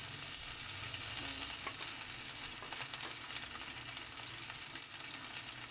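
Potatoes fry in a non-stick pan, giving a steady, even sizzle with faint crackles throughout, moderately quiet and with no talking.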